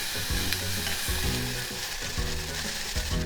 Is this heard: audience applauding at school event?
no